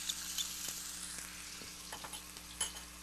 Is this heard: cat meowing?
no